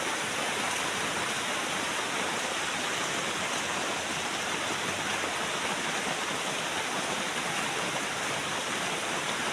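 Steady, dense wash of heavy rain, a constant broadband hiss with no breaks and no voices, close and enveloping throughout.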